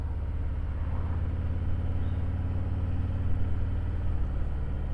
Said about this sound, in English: I'm out for a quick rip, seeing how the bike is